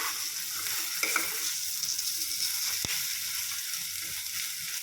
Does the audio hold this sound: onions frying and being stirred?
yes